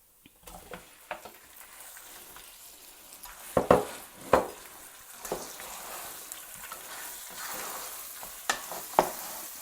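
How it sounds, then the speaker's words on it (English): Mutton fries in a hot pan with a continuous crackling sizzle, punctuated by louder spatters and stirring clatter, heard close and without speech. "while it's sizzling, we're going to add our mutton into it"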